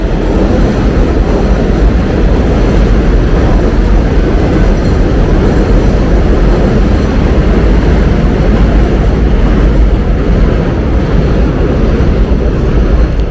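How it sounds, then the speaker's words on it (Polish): A loud, steady roar of an elevated 7 line subway train rumbling past nearby in Queens, New York, a continuous rushing and rattling noise that fills the whole stretch without voices. "To co słychać to e, metro linia, linia numer 7."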